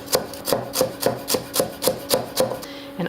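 A knife mincing green onions on a cutting board, about ten even, rhythmic chops spaced roughly a quarter second apart, close and crisp, with no talking.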